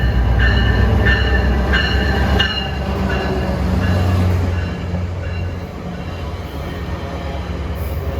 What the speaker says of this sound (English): 424 arriving as VRE train 305.